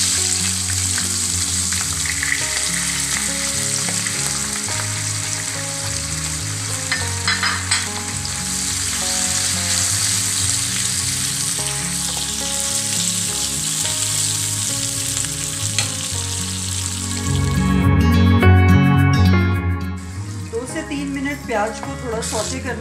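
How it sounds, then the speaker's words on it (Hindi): Chopped onions hit hot oil in a pan for a mustard fish curry, a loud continuous sizzle with stirring scrapes, swelling louder near the end, with background music throughout. "तो अब ये तेल गर्म ही है और इसमें मैं जो मैंने ये कटे हुए प्याज थे वो मैं इसमें डाल रही हूँ।"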